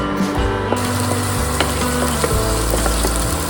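Chopped onions frying in a pan for a jackfruit bhaji give a steady, close sizzle with occasional pops and light stirring scrapes, and no talking.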